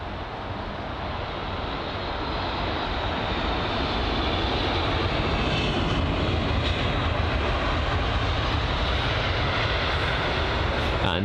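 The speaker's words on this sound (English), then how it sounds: "So the Eurowings A319." A Eurowings Airbus A319 jet arriving from Stuttgart lands at Heathrow, its engine roar loud and continuous, swelling slightly as it nears.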